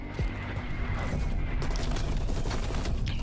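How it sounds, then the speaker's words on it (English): An artillery strike in Black Ops Cold War, heard as a dense barrage of heavy booms and rumbling explosions that keep rolling on loud and close, with no talk over them. "Gotta call this artillery somehow. Call it all in."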